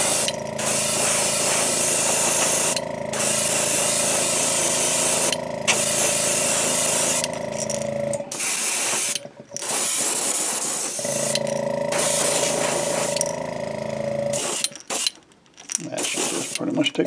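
An airbrush sprays Createx Pearlized Lime paint as an undercoat on a 2.5 Red Craw fishing lure, making loud, close, steady hissing bursts separated by short pauses and brief quiet gaps.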